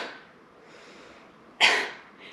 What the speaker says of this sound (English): give me a little cough